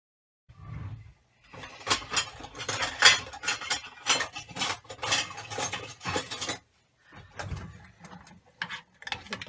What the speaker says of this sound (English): I'm just going to continue mixing that well, and that will be our filling for the tortellini